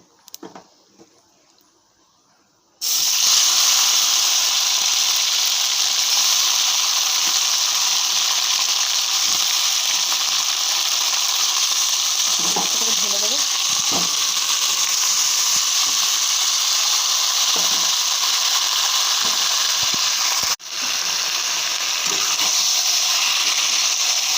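After a quiet start, marinated chicken hits hot oil and spices over a high gas flame with a loud, steady sizzling hiss that carries on continuously, briefly dipping once.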